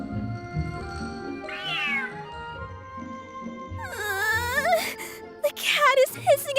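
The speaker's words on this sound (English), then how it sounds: "The cat is hissing at me, Miss Rosaria." Cartoonish cat character in the Genshin Impact Feline Fortress Furrdyssey event meowing and hissing, with several drawn-out meows rising and falling and a sharp hiss among them, heard over game music and effects.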